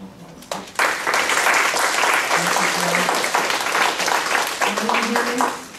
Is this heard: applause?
yes